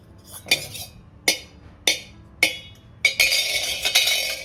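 A plain steel cooking pot, an ordinary wedding-gift vessel, handled and tested with a magnet, giving five sharp metallic clinks and taps in a steady rhythm, close and moderately loud, ending in a longer bright rattling scrape.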